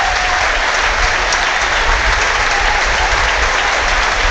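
Steady, dense applause from a football stadium crowd greeting a substituted player, a continuous loud wash of clapping with no break across the few seconds.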